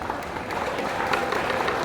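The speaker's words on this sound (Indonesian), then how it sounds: "Tepuk tangan" Crowd applause at a political rally in Yogyakarta, a brief dense wash of clapping with faint voices mixed in, steady and moderately loud for under two seconds.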